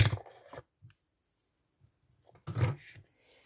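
Small scissors snip at a table in a few short, crisp cuts, a couple of bursts separated by near silence, close and clear.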